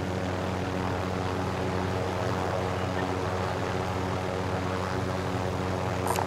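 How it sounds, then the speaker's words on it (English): A helicopter flies near an airfield hangar, producing a steady, loud rotor and engine drone that fills the whole stretch without pause. "Oh, it's a chopper out here."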